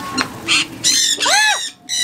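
A bird squawks loudly and close by on a Costa Maya shore excursion during a Norwegian Breakaway cruise, several harsh, rising and falling squawks in quick succession, with no voices.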